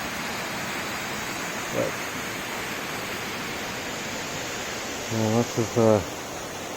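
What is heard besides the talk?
creek flowing along a trail near waterfalls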